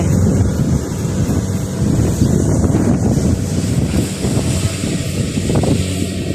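Wind gusting across a glutinous rice field during harvest, a steady roaring buffet of wind noise on the microphone with a broad rushing hiss, loud and continuous throughout, no voices.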